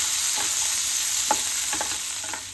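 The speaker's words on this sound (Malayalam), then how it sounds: "ഇനി ഉള്ളി ഇടാം ഉള്ളി മൂക്കണ വരെ ഇളക്കാം" Onion stirred and frying in a pan for dried prawn chammanthi, a steady close sizzle with a few soft scraping stir strokes over it.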